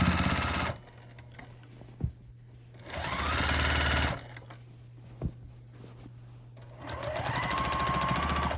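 A sewing machine stitches a tote bag in three bursts of steady whirring, separated by quieter pauses with a low hum and a couple of sharp clicks.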